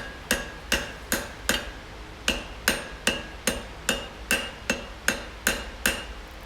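Hammer blows on white-hot steel during forge welding, about fifteen sharp ringing strikes in a steady rhythm, close and loud, with brief pauses between groups, no voices.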